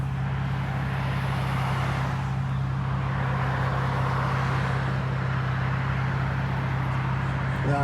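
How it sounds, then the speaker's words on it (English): Steady, dense road traffic rumble heard from inside a blacked-out Infiniti Q50S, with a constant low engine drone and broadband road noise running evenly throughout, no distinct passes standing out. "That's a lot of traffic."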